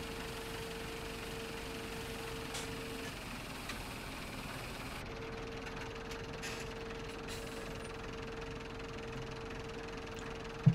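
A tractor engine in the Farming Simulator 17 video game idles with a steady mid-range hum and a constant tonal drone, even and unchanging throughout.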